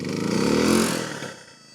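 A generator over-revs while powering a PowerSmart 6-ton electric log splitter. Its engine swells into a loud, strained roar, then quickly dies away.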